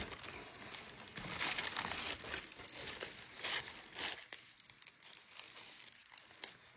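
Paper crinkles and snips close by in irregular bursts of crisp cutting and rustling, fairly quiet, with no talking.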